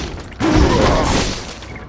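A sudden heavy boom bursts in after a short quiet moment as furnace machinery explodes in the video game Rune, followed by a rumbling, crackling blast that slowly fades out.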